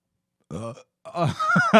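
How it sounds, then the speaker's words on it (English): Two loud, guttural burps right into a close microphone, a short one followed after a brief silence by a longer, drawn-out belch. "I'll burp right into the microphone"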